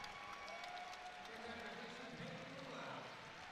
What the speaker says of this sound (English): You heard the crowd.